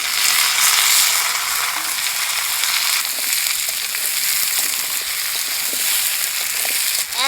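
Vegetables and dal frying together in a pan for a plain mixed-vegetable dish, with a steady broad sizzle throughout and faint scraping stirs near the end.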